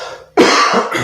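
A single loud, harsh cough bursts out after a quieter breathy lead-in, followed by a brief second rasp, close to the microphone and with no talk over it.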